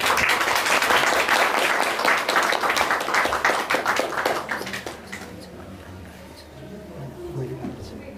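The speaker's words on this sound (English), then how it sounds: "So can you just give him a round of applause, guys?" Audience at a vegan festival session in Kathmandu gives a burst of applause, loud dense clapping that fades out after about five seconds, followed by quieter murmuring.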